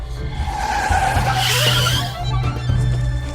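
A car braking hard and skidding, a loud close tire squeal over a low engine rumble, rising and then fading over a few seconds.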